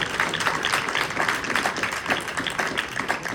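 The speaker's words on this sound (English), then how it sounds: "That's right, you can clap, David" A crowd applauds steadily, dense overlapping claps filling the whole stretch at moderate volume with no talking.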